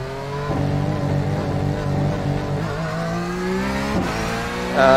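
A Porsche 911 GT3 in the iRacing sim racing game at Road America, engine revving loudly with steady rising pitch through the gears, a brief shift dip near the end, close and continuous with little else heard.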